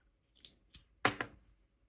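Scissors snip through yarn for a crocheted headphone pouch: a few quick, close, crisp cuts in quick succession, with no talking.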